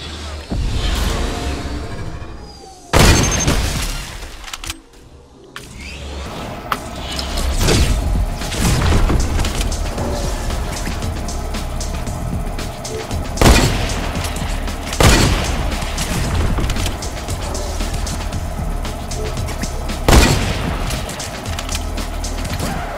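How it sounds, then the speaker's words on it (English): Gunfire aimed at the player in the video game Fortnite: several sharp, loud shots ring out at irregular intervals over a steady mechanical game background, with a brief quiet gap before the firing resumes. "someone's shooting at me"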